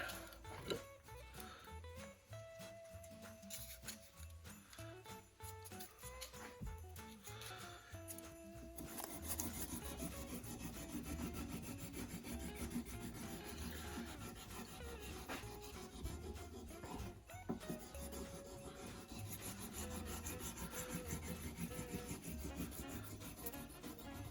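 A diamond painting pen rubbed against 600 grit sandpaper gives a faint, close, continuous scratchy rasp of back-and-forth strokes, which grows steadier and denser about halfway through.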